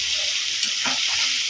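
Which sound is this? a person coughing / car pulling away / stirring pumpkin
stirring pumpkin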